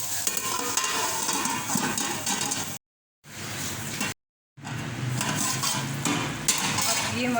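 Bhindi masala (okra) cooking in a pan over a low flame, giving a steady close sizzle and bubbling with occasional stirring and utensil clinks, broken by two brief silent gaps.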